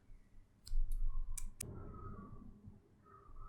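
A computer mouse clicked several times in quick succession at close range while working in the Visual Studio Code editor, the sharp clicks standing out over a quiet room with faint background noise.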